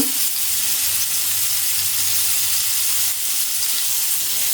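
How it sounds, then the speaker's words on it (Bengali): Cut sweet pumpkin pieces with spices frying in hot oil in a wok give a steady, close, even sizzle with a soft hiss and no voices. "কড়াইটা গরম হয়ে গেছে তো মিষ্টি কুমড়াগুলো কেটে রাখছিলাম ওগুলো দিয়ে নিছি সব মশলাও দিয়ে নিছি এখন ভালো করে ভেজে নিব"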